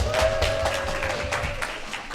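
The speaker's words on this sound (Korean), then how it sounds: "우리 율동 선생님들 다시 한번 박수" Applause from a church worship congregation thanking the dance teachers, a brief round of moderately close clapping that thins out after about two seconds.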